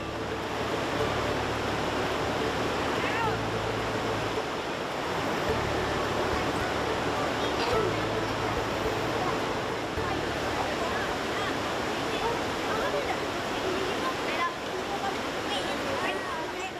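A river flowing past Talang Paruh village in Lembah Masurai, Merangin, Jambi, a steady broadband rush of water, loud and continuous, with possible voices buried beneath.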